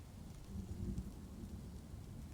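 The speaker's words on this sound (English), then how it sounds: "hear the thunder and the rain" Steady rainfall with low, rolling thunder in the Dwarf Fortress video game, a soft broadband hiss over a deep rumble that swells briefly, then settles.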